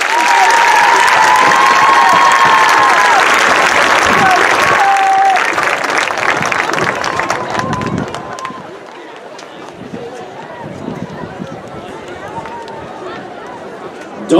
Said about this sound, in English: Another round of applause for this road graduate.